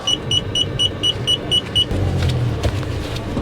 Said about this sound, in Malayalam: നമുക്ക് വണ്ടി റിവേഴ്സ് ഇറക്കാം കേട്ടോ